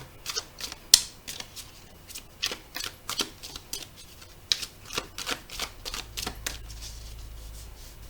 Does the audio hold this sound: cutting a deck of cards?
yes